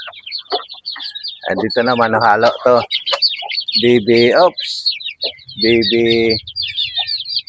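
Backyard hen with four chicks, clucks and soft peeps in a rural Filipino yard, nearby and steady, while someone talks over them in Filipino.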